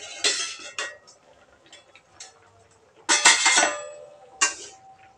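Metal pot and lid clinking on a stovetop while potatoes cook for aloo posto, a few sharp separate clanks with quiet gaps between them.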